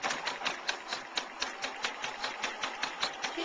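A sewing machine stitches steadily around a fabric heart, a fast even rhythmic whirr with regular pulses, close and alone.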